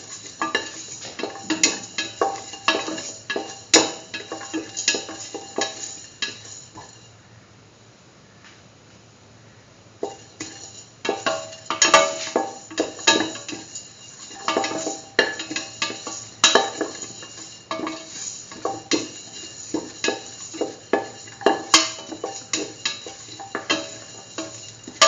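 Spoon stirring and scraping in a pot while the ingredients for a curried egg and mung bean stew sauté. Soft sizzling and frying run beneath repeated clinks and scrapes, with a brief quieter pause partway through.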